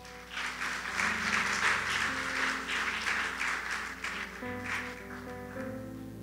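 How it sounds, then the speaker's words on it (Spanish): A church congregation gives a strong round of applause to the Lord during a sermon, sustained clapping with a swelling, reverberant wash that holds steady and fades slightly near the end. "Denle un fuerte aplauso al Señor."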